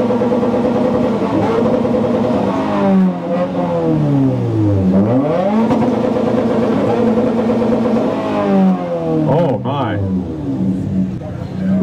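2018 Subaru WRX at a car meet, engine revving hard in repeated rising and falling sweeps, loud and close, with a person briefly exclaiming near the end.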